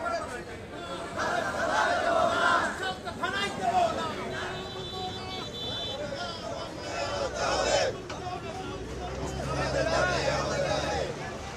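Local people protesting on the Dhaka-Sylhet highway make a steady, dense crowd babble of many overlapping voices, loud and continuous throughout, with occasional traffic-like rumble beneath.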